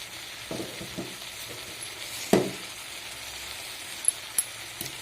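Spiced onion greens with chili powder and salt being stirred in a hot pan, a quiet steady sizzle broken by a few sharp spatula scrapes and clinks against the pan.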